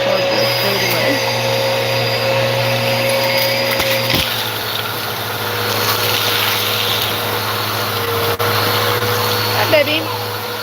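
A Dyson Allergy plus Pet vacuum cleaner runs at home with a steady, droning motor hum and whine throughout, while voices are heard over it.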